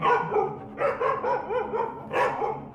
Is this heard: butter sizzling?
no